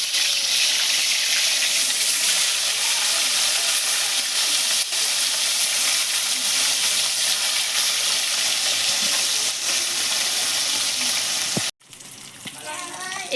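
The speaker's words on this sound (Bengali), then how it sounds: "এবার আমি মাছটা ভেজে নেব।" Pieces of rohu fish fry in hot oil, giving a loud, steady, dense sizzle that runs unbroken for most of the stretch, then cuts out sharply before resuming more softly near the end.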